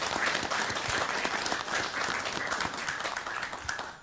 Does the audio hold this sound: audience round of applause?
yes